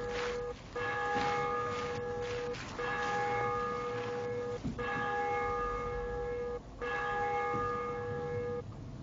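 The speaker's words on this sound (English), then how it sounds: "There's now bells ringing." Bells ring out in the video game DayZ, striking about every two seconds with long sustained tones that fade between strokes. The ringing is loud and steady and carries on alone with no talking.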